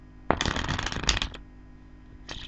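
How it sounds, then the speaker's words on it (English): A deck of playing cards is shuffled once in a quick riffle during a card trick, a dense crisp burst of about a second, followed by a brief second rustle. The cards are close and heard alone. "And a bit of a shuffle."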